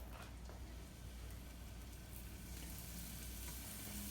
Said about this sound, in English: Let's add the shrimp. There we go. I can hear it.